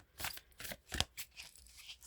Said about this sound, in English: So I'm going to do a quick shuffle